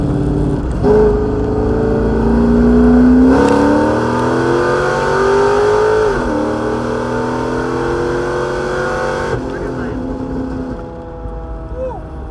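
A C6 Corvette with its air filter removed accelerates from the driver's seat, the V8 climbing in pitch through loud sustained revs, with a shift dip partway and a drop back to a steadier cruising hum near the end.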